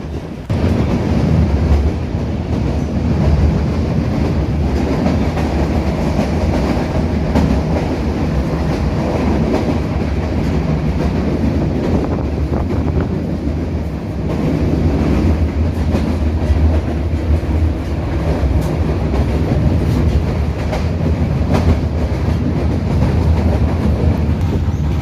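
A metre gauge train rolls along the Bahraich–Nepalganj Road line, heard from inside an old coach with a constant loud rumble, rattling carriage and steady wheel clatter throughout, with no voices.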